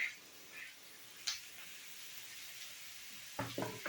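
A soft, steady sizzle of onion and grated carrot frying in a pan, with a few clinks and stirring noises near the end.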